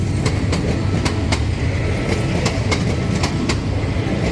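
A commuter train rumbles steadily past at close range on the Yommarat curve in Bangkok, loud and continuous, with regular clickety-clack wheel beats over the tracks.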